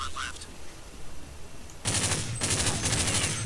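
Two loud bursts of automatic rifle fire in Counter-Strike: Condition Zero, separated by a brief pause and following a quieter stretch of background game noise.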